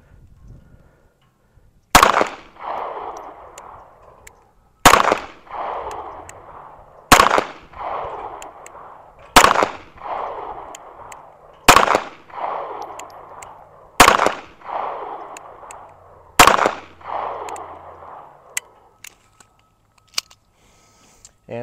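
A Bodyguard .380 pistol fired at a 50-yard target on an outdoor range, seven sharp loud shots spaced roughly two to three seconds apart, each followed by a short echoing tail.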